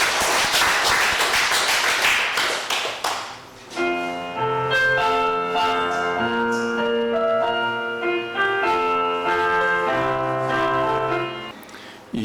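A church congregation breaks into a dense burst of clapping after a prayer, lasting about three seconds, and then a sustained organ-like musical chord takes over.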